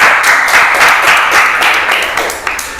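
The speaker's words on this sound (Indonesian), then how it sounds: "Tepuk tangan untuk tim kuning." Classroom applause for the yellow team during a teacher-training lesson, a dense steady patter of many hands clapping close by, fading slightly toward the end.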